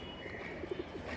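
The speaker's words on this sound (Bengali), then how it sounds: "এই যে হচ্ছে কি আমাদের একটা বাঘা কবুতর" A tame Bagha pigeon coos softly, a few low rounded hoots in quick succession near the end of the moment, close by over faint indoor background noise.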